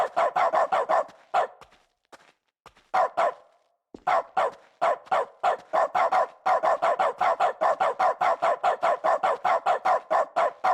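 A dog in The Stanley Parable video game barks in quick, steady bursts, with two brief pauses before a long run of evenly spaced barks, loud and close.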